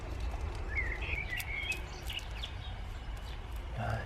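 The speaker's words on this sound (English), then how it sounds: "The birds are singing." Small birds chirp and twitter intermittently in a quiet garden, light and somewhat distant, scattered over a low outdoor rumble with no talking.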